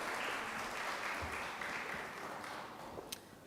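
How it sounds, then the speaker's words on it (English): An audience at a Ramadan edition business talk claps for several seconds, a steady wash of applause that slowly fades, with no voices over it. "So let's give her a warm round of applause."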